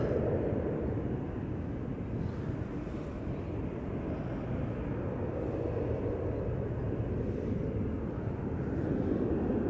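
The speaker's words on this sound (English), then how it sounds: "Got a lot of aircraft coming out now" Aircraft taking off at Manchester Airport, a steady, broad, distant engine roar with wind-like rush that holds without pause.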